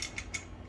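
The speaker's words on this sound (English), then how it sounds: "Little bit of tightening because there are washers and there is a spring washer there." A bolt with washers and a spring washer being tightened on a Grand Pitstop dismantlable paddock stand, giving a short run of faint metallic ratchet-like clicks at close range, with no talking.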